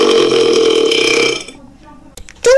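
A long, loud cartoonish burp from an orange cartoon character in a classroom setting rumbles steadily and then cuts off, followed by a few brief faint sounds and a short voiced exclamation at the end.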